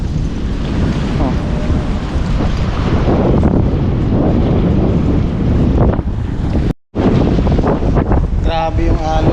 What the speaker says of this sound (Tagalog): Grabe yung alon, pambihira.